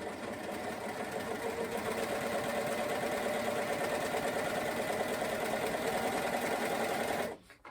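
A sewing machine runs steadily while stitching fabric for men's lounge trousers, a loud, close, rapid mechanical whir that holds for several seconds and then stops abruptly.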